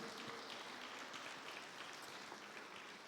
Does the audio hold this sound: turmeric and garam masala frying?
no